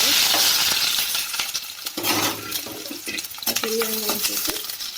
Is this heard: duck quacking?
no